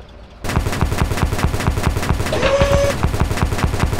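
Rapid gunfire in the video game Roblox, a loud continuous burst of closely spaced shots in a fast even rhythm with a brief tonal whine partway through.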